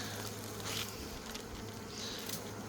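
Faint, close buzzing of agitated honeybees and wasps around an opened beehive after its cappings were scratched, a steady drone with passing insects rising and fading.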